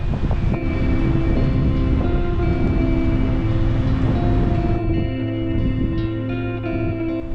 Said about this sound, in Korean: 물소리